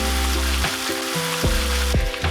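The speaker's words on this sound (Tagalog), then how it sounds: "Once nasa tamang init na ang mantika ay iprito na natin ang isdang galunggong." Galunggong fish frying in hot oil in a pan sputters with a continuous close sizzle, broken by several sharp pops and tonal clanks, with no voices.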